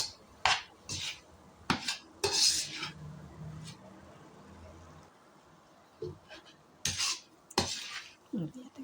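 A metal spatula scrapes and stirs besan roasting in ghee in a pan over low heat, giving intermittent clinks and scrapes with a faint sizzle between them.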